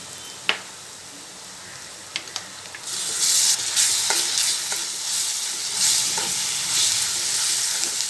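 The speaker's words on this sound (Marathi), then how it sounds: "जरा आलं लसूण थोडं फ्राय करून घ्यायचं कांद्याबरोबर" Ginger garlic paste stir-fried with onions in a pan: a few utensil taps, then loud close sizzling with bursts as the mixture is stirred.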